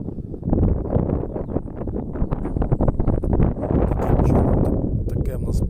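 Strong, cold wind buffets the microphone in heavy, rumbling gusts across an open field, with a voice speaking beneath it.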